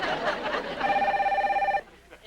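A telephone bell rings in one sustained trilling burst after a moment of talk, then cuts off, leaving a quiet room with faint sounds.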